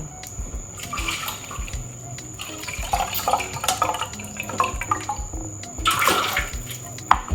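Water running and splashing as beans are rinsed in a kitchen in Accra, Ghana, a close, continuous gush with uneven sloshing surges and drips, no talking.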